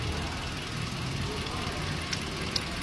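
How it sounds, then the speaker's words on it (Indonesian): A healthy car engine runs steadily at idle, a constant close hum and rumble that fills the short clip without breaks. "Ini kondisi mesin yang sehat."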